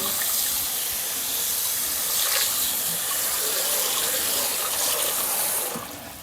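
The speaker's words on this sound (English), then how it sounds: "So we're adding 2 cups of water." Two cups of water poured into a pot of Jamaican goat curry, a loud steady gushing splash close by that runs for about six seconds, then tapers off at the end, with no talking.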